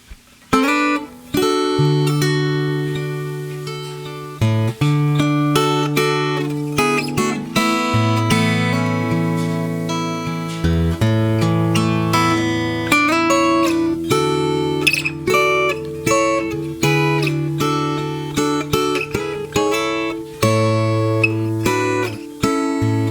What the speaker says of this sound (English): essentially doing the melody, but with a bunch of harmony and some, kind of fun guitar little lick things in there